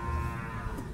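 White water buffalo lowing at a stockyard, one short, fairly faint low moo over a background murmur.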